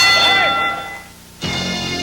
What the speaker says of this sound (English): Bell in about 3 seconds.